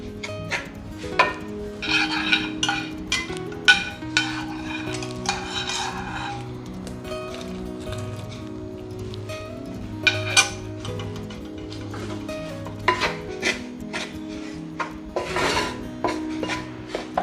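A spoon scrapes and clinks against a vessel as rice flour dough for pidi is mixed with boiling water, with repeated sharp taps and a steady stirring rhythm, close and moderately loud.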